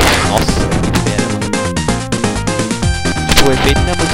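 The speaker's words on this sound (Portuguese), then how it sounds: "O som da explosão, velho, é muito..." Explosion effects from the Streets of Rage video game, loud bursts and crashes layered over busy game music and punches, several booms packed into a few seconds.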